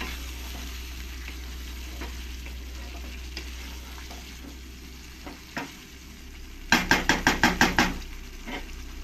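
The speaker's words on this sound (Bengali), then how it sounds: "এবার আমি যে এখানে নারকেলের দুধটা নিয়েছি নারকেলের দুধটা এর মধ্যে দিয়ে দেবো। দিয়ে ভালো করে একবার মিশিয়ে নেব মশলা আলুর সঙ্গে।" Coconut milk being stirred into spiced potatoes in a pan, with a low sizzle and soft scraping under a steady hum, then a quick burst of about six sharp spoon knocks against the pan near the end.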